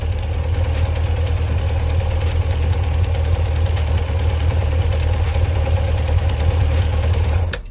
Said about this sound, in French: le ralenti se stabilise tout de suite